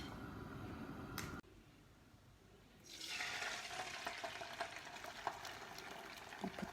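An egg poured into a hot non-stick pan coated with cooking spray: faint crackling, then the sizzle rising and holding after about three seconds, quiet and close with scattered pops.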